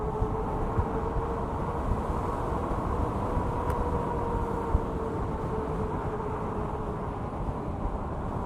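A 5000W electric bike riding on throttle alone gives a steady electric motor whine with constant rolling and wind rumble, continuous and moderately loud, with no speech.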